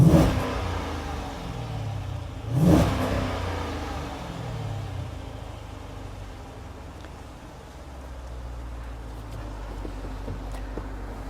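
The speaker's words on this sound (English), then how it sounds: "You can see and you can hear that it's limiting the RPM a little bit as we sit here in neutral and do this" A 2013 Jeep Grand Cherokee SRT8 sits in neutral while its engine is revved close by. One sharp rev rises and falls early on, then a steady, loud idle rumble continues with the RPM held back by a limiter.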